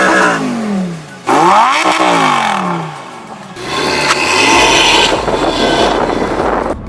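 A Lamborghini Huracan Tecnica's naturally aspirated V10 engine revs and accelerates loudly, its pitch sweeping upward through gear changes before settling into a roaring, sustained drone.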